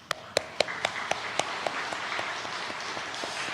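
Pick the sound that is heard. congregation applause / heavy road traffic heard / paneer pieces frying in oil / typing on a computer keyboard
congregation applause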